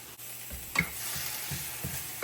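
Chopped red onion and garlic sautéing in a pan at home, a soft steady sizzle with a few brief stirring scrapes and clinks, close and fairly quiet.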